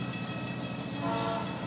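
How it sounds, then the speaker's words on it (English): A train horn alert sounds on a livestream, a steady sustained honk layered over rumbling railway noise, holding at a moderate level and swelling slightly toward the end. "100 bits and up honks the horn"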